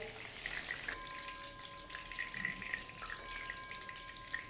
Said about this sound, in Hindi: इस तरीके से हरी मिर्चों को मैंने तल लिया